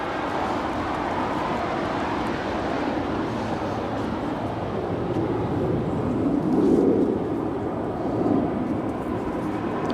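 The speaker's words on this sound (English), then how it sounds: "Also have an American Airlines 787-9 Dreamliner heading to Miami, flight 529. She's also making her way down for a departure here on the south side." An American Airlines Boeing 787-9 Dreamliner taxis toward departure on the south side of Los Angeles International Airport, a steady distant jet engine rumble and whine that swells gently partway through.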